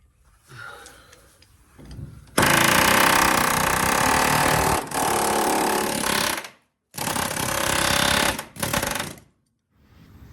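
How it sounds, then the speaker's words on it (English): A pneumatic air hammer chatters in loud, rapid bursts while splitting the rusted, dirt-packed corner of a convertible's rocker panel near a triangular brace. It starts after a quiet lead-in, runs several seconds, then breaks off into shorter bursts separated by brief pauses. "I'm gonna take the air hammer and split it."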